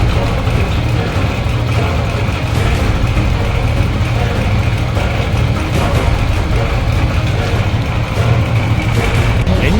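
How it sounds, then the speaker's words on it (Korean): A motorcycle engine runs, picked up through a mechanic's stethoscope pressed against the cylinder, crankcase or head: a loud, steady, booming engine drone with dull mechanical knocking throughout and no voices. "엔진 소리가 다 울려서 들려요"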